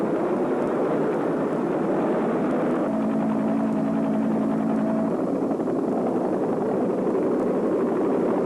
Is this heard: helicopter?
yes